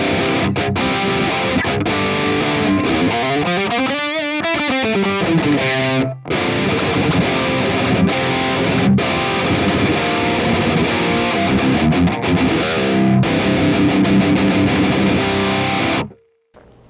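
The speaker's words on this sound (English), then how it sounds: "now we are going to check out some distortion tones" Heavily distorted electric guitar on the bridge pickup played through the ML Sound Lab Amped Ark amp plugin, with chugging rhythm chords, a sliding bend passage, and a sudden stop at the end.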